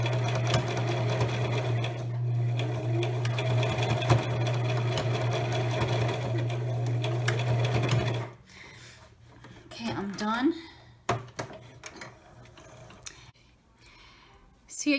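A sewing machine runs steadily for about eight seconds, stitching a strap on an eyeglasses pouch with a loud even motor hum. It then stops, leaving handling clicks and brief rustles.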